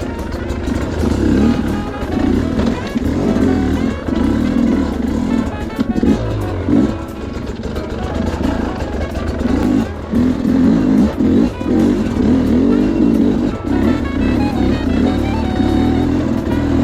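A 2025 Sherco SE300 Factory two-stroke dirt bike engine drones steadily while riding, with a loud, continuous, rough note that rises and falls slightly as the throttle shifts, close and without talk.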